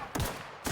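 Two sharp gunshots from an enemy in The Outer Worlds, close and punchy, spaced about half a second apart against a noisy background.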